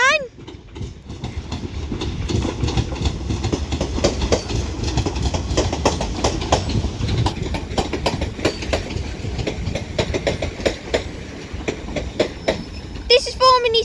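A London Northwestern Railway service from Birmingham New Street to Liverpool Lime Street passes through Crewe station, loud and close, with a steady rumble and repeated clickety-clack of wheels over rail joints. Brief squeals at the start and end, and voices beneath.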